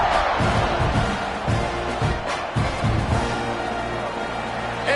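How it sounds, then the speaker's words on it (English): Stadium crowd noise from a college football video game with Florida, a steady loud roar of many voices with swelling cheers and bursts, filling the whole stretch without pause. "Do you think this crowd's going to get loud when their defense comes on the field?"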